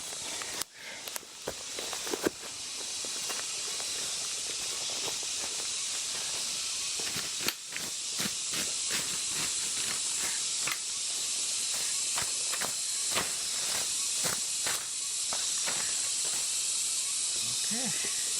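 Insects buzzing outdoors during a walk to fetch water: a constant high, hissing drone fills the whole stretch, with scattered footsteps and brushing sounds close by.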